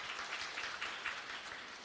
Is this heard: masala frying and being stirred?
no